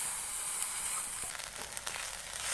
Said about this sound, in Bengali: আমি ভালোভাবে লাল লাল করে ভেজে নেব।